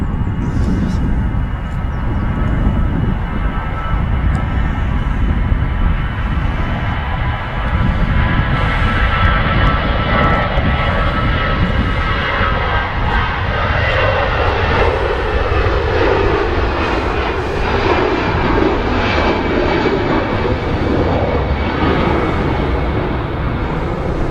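An EasyJet Airbus A320 jet airliner takes off and climbs steeply at Manchester Airport, a loud sustained engine roar and rumble with shifting whine as it pulls away, with people talking over it.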